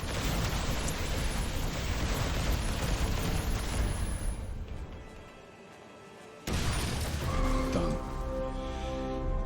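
A spaceship is blown apart in a space battle in Galactic Civilizations IV, a loud, sustained rumbling explosion that roars for several seconds, dips briefly, then surges back with crackling debris and tonal game effects.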